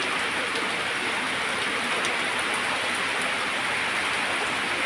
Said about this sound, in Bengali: কেমন বৃষ্টি পড়ছে।